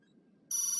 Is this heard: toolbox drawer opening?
no